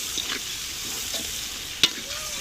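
Curry with spices is stirred in a pan, a soft continuous sizzle under gentle scraping, with one sharp utensil tap near the end; close and quiet, no talking.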